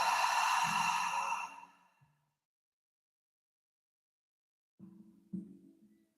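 A long, breathy exhale during a breathwork session fades out over about two seconds, followed by silence and then a couple of faint, short breath sounds near the end.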